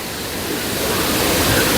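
Water rushing over a waterfall makes a steady, dense roar that swells slightly louder over the short stretch, heard close and alone with no talking.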